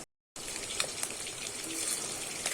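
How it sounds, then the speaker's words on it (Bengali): Chicken pieces frying in oil in a pan for Bengali chicken kosha: a steady, close hiss of sizzling that starts after a brief silence and runs evenly to the end, with faint crackles. "আমি একটু লাল লাল করে চিকেনটা ভেজে নেব।"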